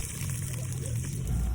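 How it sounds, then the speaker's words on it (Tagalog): Water pours steadily into a pan of cooking squash (gulay na kalabasa), a continuous close trickle and splash lasting a couple of seconds with no talking over it. "At makalipas ang ilang minuto ay buksan nyo at maglalagay tayo ng tubig."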